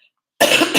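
A sick woman's cough bursts out after a short silence, a single harsh, close and loud fit lasting under half a second with no talk over it.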